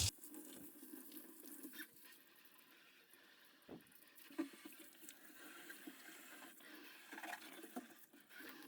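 Hot water running from a tap into a large sink while a bong is cleaned, a faint, steady splashing stream with a few small knocks and clinks over nearly nine seconds.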